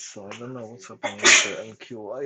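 A single sharp sneeze bursts out mid-conversation during a live trading stream, loud and close, with someone talking steadily before and after it.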